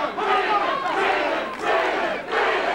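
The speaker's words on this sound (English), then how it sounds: "You hear the crowd chanting Breland." Boxing arena crowd at the Aaron Davis vs Mark Breland fight chanting Breland in repeated swelling surges, loud and massed, with about three rhythmic waves of voices.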